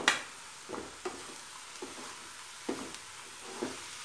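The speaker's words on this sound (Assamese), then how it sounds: "এয়া কবিখিনি এবাৰ লৰাই দি চাওঁ" Cabbage frying over low heat in a pan, stirred a few times with soft scraping strokes over a faint steady sizzle, each stir a short, quiet burst.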